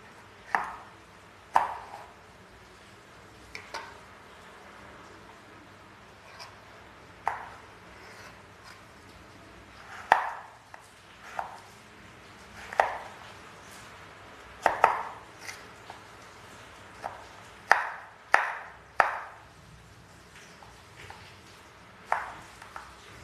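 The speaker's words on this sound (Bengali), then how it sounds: "এবার এটাকে আমি ছোট ছোট টুকরো করে কেটে নেব।" A knife chops peeled ash gourd into pieces on a board, close, clean thuds arriving singly and in short bursts at an uneven pace, with quiet gaps between, no voices.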